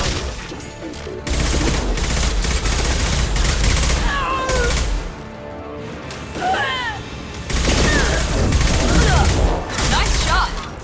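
Bursts of rapid gunfire and heavy weapon blasts crash through a sci-fi firefight in Mass Effect, the volleys loud and dense, pausing briefly between clusters while shouted combat voices and whooshing effects cut in over the shooting.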